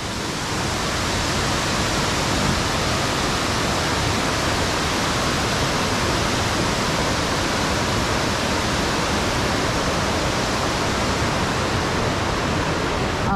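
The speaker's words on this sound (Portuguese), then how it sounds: "Ali é uma barragem." Water rushes steadily over a dam with clear, transparent flow, a loud broadband roar held unbroken throughout with no pauses.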